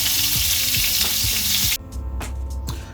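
Moroccan kefta meatballs sizzle loudly in hot oil in a pan, a dense continuous frying hiss that drops abruptly partway through to a quieter crackle with a few pops.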